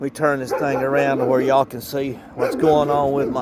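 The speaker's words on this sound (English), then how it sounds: "I apologize for the dogs again" Dogs bark and yip in the background on a morning outdoors, the calls running steadily under someone talking close to the microphone.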